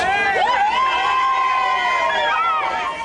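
A large crowd of football fans at the Arena da Amazônia in Manaus cheers and shouts continuously during a match against Colombia, a dense roar of many voices with rising whoops and whistles.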